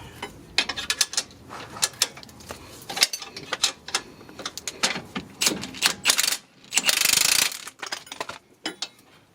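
A ratchet tightens a nut on the rear coil spring of a 2007 Hyundai Veracruz, giving sharp irregular clicks and metallic knocks up close amid handling noise, without speech.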